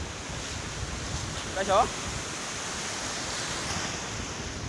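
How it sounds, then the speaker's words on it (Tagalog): Big ocean waves surge and roar steadily at a beach while a person speaks briefly over the noise in the middle. "laki ng alon"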